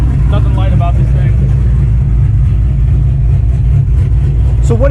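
All-wheel-drive police Charger pursuit car, still fitted with its cage and seats, idles loudly up close with a deep steady rumble, while people talk over it near the start and end.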